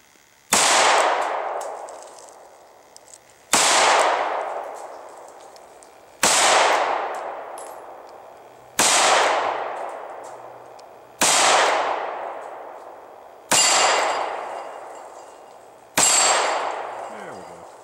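A Smith & Wesson M&P Shield 9 fires seven evenly spaced 9mm shots at 8-inch steel plates about 12 yards away, each sharp report followed by a long ringing decay.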